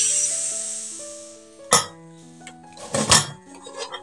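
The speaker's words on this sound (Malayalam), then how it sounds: "ഇനി കുക്കർ തുറന്ന് നോക്കാം." Clatter of a pressure cooker lid being handled and opened after the steam has been released, with a few sharp metallic knocks and clinks of pot and utensil against a quiet kitchen background.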